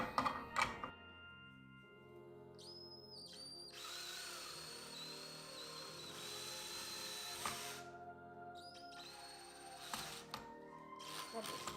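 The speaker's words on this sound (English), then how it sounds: "Now I'm gonna use the drill to screw it in." A power drill whirs in a sustained burst for several seconds driving a screw into an artificial spiral topiary, then a shorter burst follows, with handling clicks around them.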